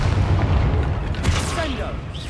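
Bombarda spell explosions in the video game Hogwarts Legacy: a loud booming blast with a broad, rumbling roar that stays dense and sustained throughout.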